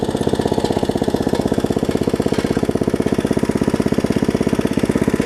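A 1980s Briggs & Stratton 5 hp tiller engine idles steadily up close, its fast, even chugging pulses loud and continuous throughout with no voices.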